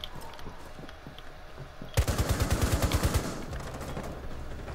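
Rapid automatic gunfire in the Rainbow Six Siege video game rattles out in one sharp burst of about a dozen evenly spaced loud shots after a quiet stretch, followed by a lingering low rumble.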